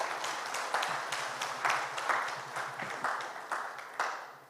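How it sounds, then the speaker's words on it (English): An audience at a conference session applauds the panelists, a steady moderately loud wash of clapping with a few sharper individual claps standing out, slowly fading toward the end. "can you give all my panelists a huge round of applause"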